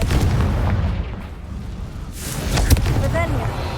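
A fiery Confringo spell blast in the video game Hogwarts Legacy booms amid rumbling combat noise, with a sharp burst near the end and a voice calling out over the din.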